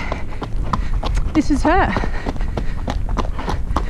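A yearling filly, a Makfi x Potions cross, ridden along a road during pre-training roadwork, hooves clip-clopping in a steady rhythm close by, with a brief whinny-like call partway and a person talking over the hoofbeats.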